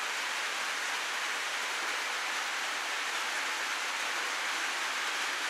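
Steady heavy rain pours down in a dense, continuous hiss that stays loud and even throughout, with no voices or other sounds cutting through.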